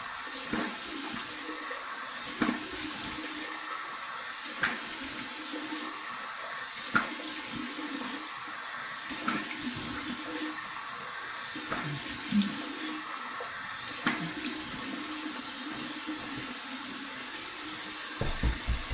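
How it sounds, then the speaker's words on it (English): Warm water runs steadily from a bathroom tap into a sink for a post-shave face rinse, a continuous broad hiss with occasional splashes and knocks, fairly close and without voices. "I'm just going to do it right from the tap."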